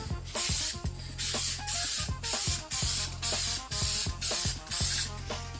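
Spray gun laying 2K clear coat onto a Nintendo 64 console shell in light passes: a loud, steady hissing spray in repeated bursts of about half a second each, with short clicking gaps between passes.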